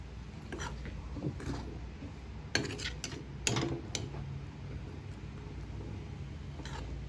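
Intermittent metallic clanks and scrapes of a utensil stirring chow mein noodles in a pan, over a steady low rumble of burner noise.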